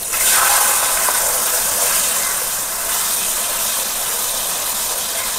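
Ground tomato paste is poured into a hot pan of oil with curry leaves while cooking butter chicken, giving a loud, steady, broad hissing sizzle that lasts throughout without any voices.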